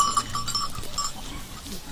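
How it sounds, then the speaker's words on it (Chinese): Black goats of a flock out on a grassy pasture, with scattered faint bleats and animal noise over a steady outdoor background; no one talks. "武威要等太阳把草地露水晾干之后，才把羊群赶出来。"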